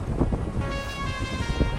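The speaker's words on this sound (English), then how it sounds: "it is windy out here today" Steady wind buffeting a microphone outdoors, a continuous low rumble with gusty swells and a faint tonal hum, no voices.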